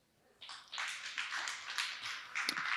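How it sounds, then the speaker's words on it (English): Audience applause for a speaker at a Polkadot conference stage in Paris, a dense wash of many hands clapping that swells in quickly and holds steady, fairly loud and without voices. "Ladies and gentlemen, please give Gérard a big round of applause."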